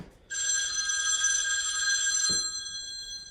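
A phone rings close by for an incoming call from an 800 number, a loud bright electronic trill lasting about two seconds before stopping with a small knock, in an otherwise quiet room.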